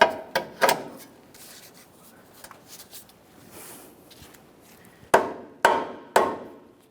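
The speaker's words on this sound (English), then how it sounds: "If you need to, you can tap on this with a rubber mallet." Rubber mallet tapping a ball joint into the steering knuckle of a 2015-2019 Subaru Outback, sharp close knocks in two clusters of three with quieter handling noise between.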